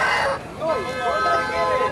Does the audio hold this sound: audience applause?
no